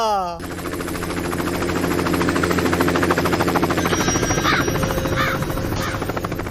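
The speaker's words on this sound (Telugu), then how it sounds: "మన ఊర్లో హెలికాప్టర్ ఏంట్రా?" A helicopter flies close overhead above a village, its rotor beating in a loud rapid chop that swells and holds steady throughout.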